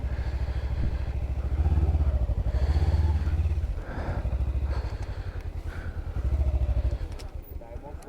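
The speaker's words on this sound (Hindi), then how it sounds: "एक मिनट ज़रा बाइक पार्क कर दूँ थोड़ा आगे" A motorcycle idling and being maneuvered into a parking spot on a high-altitude road near Tso Kar and Leh, its engine throbbing with a few revs and some clatter while someone talks over it nearby.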